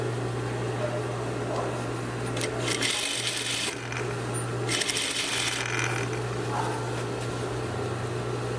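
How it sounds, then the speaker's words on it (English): Sewing machine runs steadily while stitching a garment facing seam at a half-inch allowance, a continuous mechanical whir with a strong low hum, rising in brief faster bursts of stitching. "I'm going to stitch these together at a 1/2 inch seam allowance."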